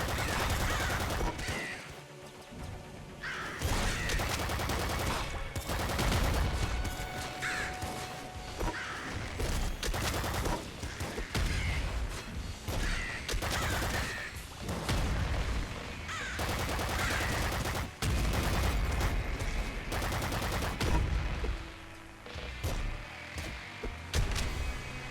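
Rapid automatic gunfire from the Bouncer SMG in the top-down shooter Nuclear Throne, loud bursts of shots repeating almost nonstop over game effects and music, with brief lulls between volleys.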